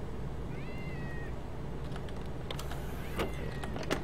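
A cat in the Starbound video game gives a couple of thin, short meows over a steady low hum, with faint clicks and taps scattered through.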